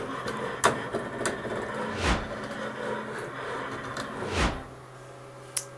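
A Melco embroidery machine traces a rectangle-and-star outline, its moving frame giving soft mechanical hums and whirs with several brief sliding swooshes and light clicks, close and moderately quiet.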